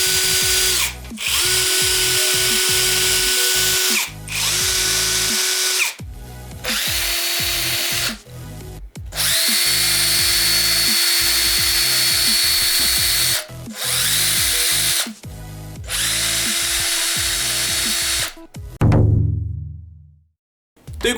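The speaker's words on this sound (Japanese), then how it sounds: "ドリルプロの 18V のインパクトドライバー、こちらを紹介していきました。" A Drillpro 18V cordless impact driver, Makita-battery compatible, runs in repeated bursts of several seconds each with short pauses between, a loud steady motor whine that winds down to silence at the end.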